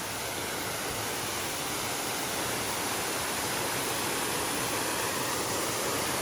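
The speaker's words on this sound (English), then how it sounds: "show you this waterfall." A waterfall on a rocky stretch of the Appalachian Trail rushes with a steady, broadband roar, constant and enveloping with no voices over it.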